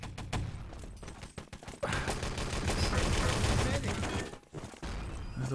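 Gunfire in the multiplayer shooter Enemy Territory during a 6-on-6 LAN tournament match, dense overlapping bursts of automatic fire and shots at moderate level, continuous through most of the stretch with a brief lull.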